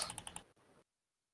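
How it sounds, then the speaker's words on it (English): Quick run of about six light computer keyboard keystrokes in a rapid burst, followed by a softer clack and then silence, heard close up and quiet with no talking. "I'm waiting for the typing."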